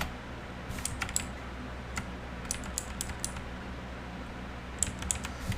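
Light, scattered keystrokes on a computer keyboard during a Linux command-line lesson, small clusters of quick clicks over a steady low hum, close and fairly quiet with no talking.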